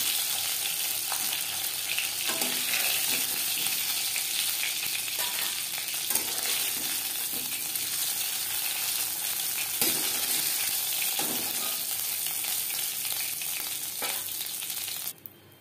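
Whole cumin seeds sizzle and crackle steadily in hot oil left from frying singi fish, a continuous bright frying hiss with occasional stirring clinks, close and alone.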